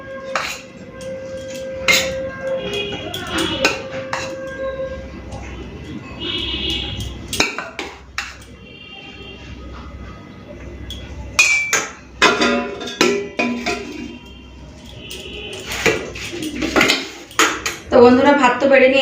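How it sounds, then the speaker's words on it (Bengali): Rice is served onto a plate at a home meal with aloo fulkopi egg curry, fried potatoes and chalta chutney. Metal spoons and dishes clink and scrape in bursts, quiet at first and then busier and closer toward the end. "চলুন ভাতটা বেড়ে নিই"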